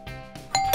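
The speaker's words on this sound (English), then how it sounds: "It sounded like a doorbell." A doorbell rings with a ding-dong chime, two clear tones, close and alone.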